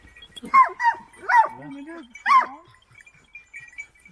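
A dog barks three or four times in short, spaced bursts, fairly close, with quiet gaps between.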